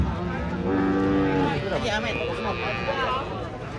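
Three large cattle unloaded from a truck moo loudly and close, long drawn-out bellows overlapping with excited talk from people nearby.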